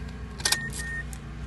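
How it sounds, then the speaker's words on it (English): A car key pulled from the ignition of a 2012 Mazda 2, a short metallic jangle and click over a steady low cabin hum, with a faint chime tone. "Remove key, it is removed."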